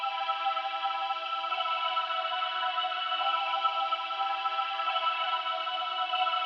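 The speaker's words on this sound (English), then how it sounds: "Here's Nexus DigiChoir." A Nexus DigiChoir synth preset in FL Studio holds a sustained, airy choir-like tone, steady and fairly quiet, with a gently wavering texture and no distinct attacks.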